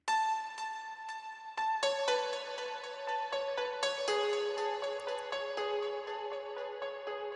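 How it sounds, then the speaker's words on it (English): A simple piano melody from a progressive house track plays alone and fairly quietly, with clear struck notes ringing and overlapping in a slow, steady line. "piano melody. I think this sounds like this."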